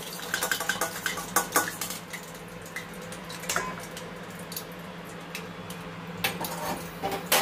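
Sweet potato langcha pieces fry in a pan with a bubbling, dripping crackle of oil, punctuated by frequent clinks and taps of a utensil against the pan.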